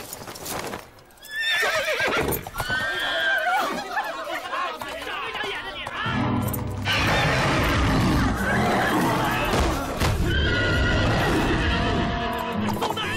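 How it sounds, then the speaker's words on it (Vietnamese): A horse neighs loudly and repeatedly while its hooves clop on the ground, close and prominent, with people chattering and laughing around it in a lively scene from a period drama. "con ngựa này của ngài tốt đấy"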